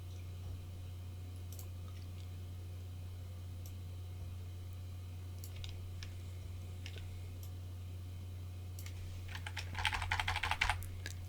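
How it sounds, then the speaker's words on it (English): Computer keyboard arrow keys pressed while adjusting an image layer in GIMP: sparse, quiet taps scattered throughout over a steady low hum, ending in a brief faster flurry of louder clicks. "and using the arrow keys to adjust the position."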